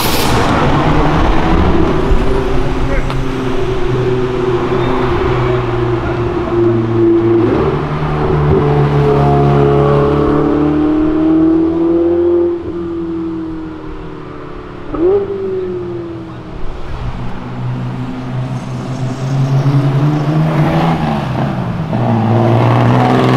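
A Lamborghini accelerates hard along Avenida Europa, its engine climbing through rising rev sweeps with gear-change dips, loud and close, with a brief lull midway before another surge and sustained roar.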